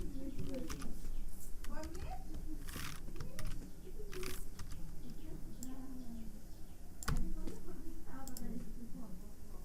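Typing on a computer keyboard while building an HTML and CSS project, with scattered key clicks and taps sitting under a voice that keeps talking throughout.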